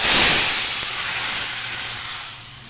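Dried red chillies and curry leaves sizzle and crackle in hot oil for a tempering, a steady close hiss that fades slightly toward the end, with no talking.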